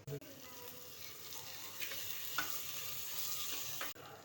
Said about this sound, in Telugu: ఇవి మంచిగా వేయించుకొని ఇవి వేగేంత వరకు మూత పెట్టి ఉంచాలి.